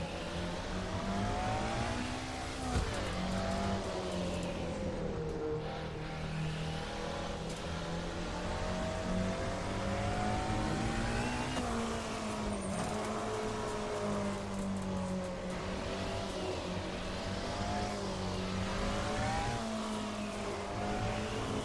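A DRM Revival race car engine in Assetto Corsa screams and revs through rising gear shifts past 200 km/h, its pitch climbing and dropping repeatedly, loud and continuous with no voices.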